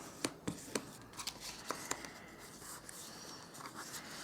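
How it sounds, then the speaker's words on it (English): A bone folder works the score lines on card stock: a series of quiet, sharp scraping and creasing strokes, several close together early on, then softer rubbing, all close and faint. "What I will do now is just fold and burnish all of the score lines"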